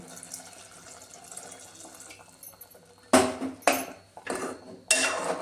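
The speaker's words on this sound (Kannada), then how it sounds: "ಈಗ ಸ್ವಲ್ಪ ನೀರು ಹಾಕ್ತೇನೆ." Quiet kitchen clatter gives way to loud bursts of water gushing into a pot, in three or four pours with short pauses between.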